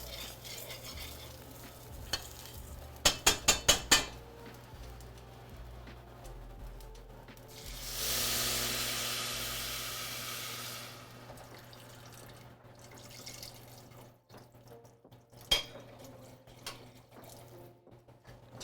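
Two and a half cups of water pour into a pan of toasted rice, a loud rushing hiss that fades into quiet sizzling and stirring, with a few sharp clinks of a utensil before it.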